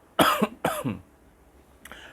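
Two harsh coughs in quick succession, close and loud, then a fainter third cough after a short pause.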